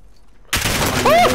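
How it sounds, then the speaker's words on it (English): Sudden burst of hostile gunfire in Call of Duty Warzone on Rebirth Island, loud and close, breaking in after half a second of silence and continuing as dense rattling fire. "Hostile fire."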